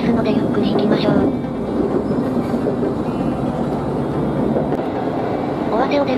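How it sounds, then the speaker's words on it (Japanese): A local passenger train running along the Kii Peninsula coast, a loud continuous rumble from on board with rhythmic wheel clatter and rail squeal, and a voice faintly present beneath the noise. "尾鷲を出ると列車は海岸線を沿うように敷かれた線路を通って"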